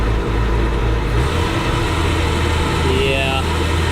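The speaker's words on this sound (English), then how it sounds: "Let me get a little bit of throttle." The engine of a Glastron-Carlson CVX23 boat runs steadily as a little throttle is applied, a loud close hum whose pitch steps up partway through, with someone talking over it.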